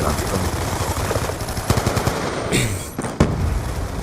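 Machine gun fire in a shooter video game as a full magazine is emptied, a dense rapid stream of shots with a couple of sharper bursts standing out, loud and close.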